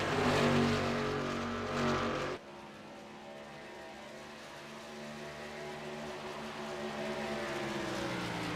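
Pickup trucks in a Truck Series race roar past on the track, a loud close engine pass fading abruptly into a steady, more distant drone of several engines droning on.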